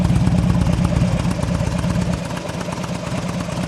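A motorcycle with a newly fitted GlidePro motor mount idles up close. The engine gives a steady, rumbling, slightly clattery beat that holds even throughout, with no one speaking.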